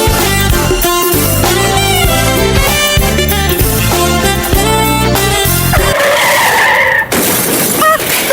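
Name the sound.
car skidding before a crash, radio advert sound effect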